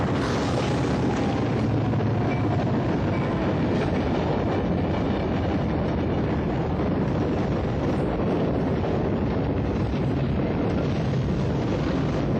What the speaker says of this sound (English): The train can't stop.